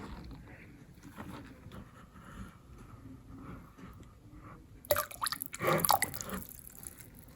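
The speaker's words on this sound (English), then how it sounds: "I'm going to be using distilled vinegar, white vinegar. So I'm just going to put a little bit in here." Distilled white vinegar poured into a small aquarium pump from a 5 gallon tank, faint trickles and drips at first, then a louder splashing burst of liquid about two-thirds of the way through, with no talk.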